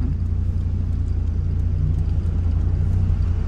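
Maserati Shamal exhaust burbling low and steady, a continuous deep engine rumble from inside or beside the car, fairly loud and unbroken with no talk.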